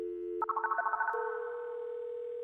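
A telephone call being placed: a steady dial tone gives way to a quick run of dialing beeps, then a continuous tone carries on alone at moderate level.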